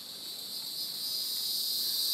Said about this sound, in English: Stupid bugs.